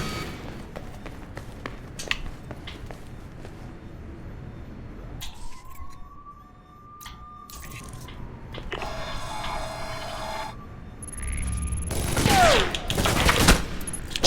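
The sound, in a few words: gunfire from enemies in the video game Alpha Protocol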